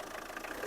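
A Tata Indica car engine idles steadily, a faint, even low hum with no change in pace over a brief moment.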